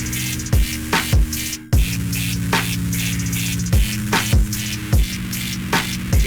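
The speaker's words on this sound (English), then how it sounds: "you have distortion, and distortion in this mug is serious" A DS Audio Thorn software synth with heavy distortion plays gritty, buzzing bass notes in a steady rhythmic pattern, each hit starting with a sharp attack and a downward pitch drop, loud and continuous with no talking.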